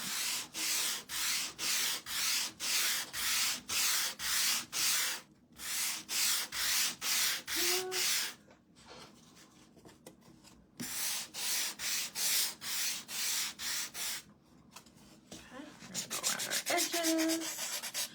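Steady back-and-forth strokes of hand sanding on wood, rhythmic scratchy rubs in several bursts with short pauses between, close and fairly loud.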